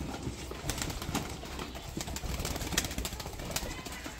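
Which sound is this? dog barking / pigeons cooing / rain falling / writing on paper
pigeons cooing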